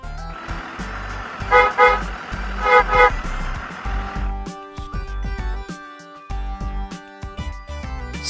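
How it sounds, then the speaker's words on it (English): Bus engine idling under traffic noise, with two short horn toots close together early on before the engine carries on alone with a few knocks. "Bus."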